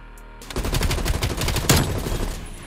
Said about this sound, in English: I just shot someone as soon as they spawned.